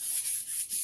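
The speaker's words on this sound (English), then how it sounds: "you see how I'm sanding it?" Hand sanding of a custom-built lightsaber hilt, a soft steady rubbing and scraping with strokes going up and down, close and fairly quiet, with no voices.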